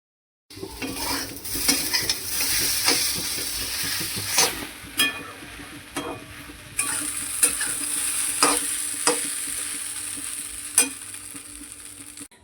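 An aloo paratha frying on a hot pan, a steady close sizzle punctuated by sharp clicks and scrapes of a spatula pressing and turning it, with no talking.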